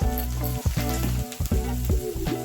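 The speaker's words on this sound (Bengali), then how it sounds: "এখন আমি ভালো করে সবগুলোকে একসাথে মিশিয়ে ভেজে নেব" Spices with turmeric and salt frying in oil in a pan for a cauliflower and lentil-dumpling curry, a steady close sizzle broken by a few brief dips as the mixture is stirred, with no talk.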